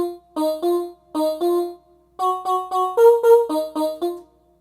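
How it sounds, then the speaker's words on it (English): Dry vocal synth from Native Instruments Glaze, no effects applied, playing a short chordal phrase of clipped, rhythmic sung-style notes in bursts with brief gaps, clean and close. "For the first vocal synth, I use Contact Play Series Glaze by Native Instruments"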